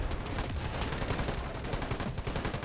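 Gunfire from an AUG rifle in the shooter game Delta Force: dense, sustained rapid shots blending with other game noise, loud and continuous throughout with no speech.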